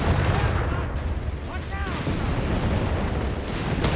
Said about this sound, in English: Church being bombarded here.